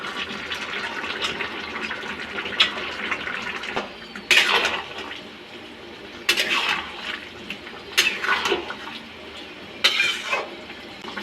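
Water poured into a cooking pot while making a Bengali jackfruit curry with prawns, a steady splashing fill with several louder bursts of pouring, close by, no talk.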